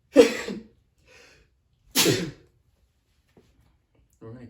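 Two sharp, close sneezes come about two seconds apart, each a short explosive burst, followed by a faint brief sound near the end.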